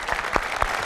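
Studio audience clapping at a Greek evening entertainment show, a short burst of dense, loud applause filling the room.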